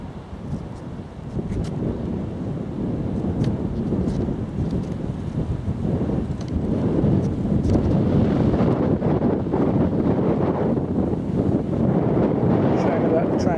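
Strong wind on an open hilltop about 200 metres up near Hollingbourne roars and buffets the microphone in continuous low rumbling gusts that build slightly louder toward the end, with no talk heard.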